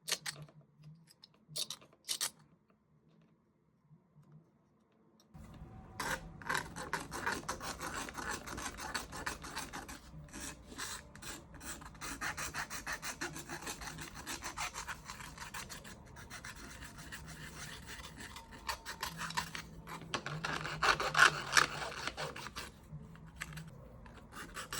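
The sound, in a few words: filing and scraping rough plastic model trim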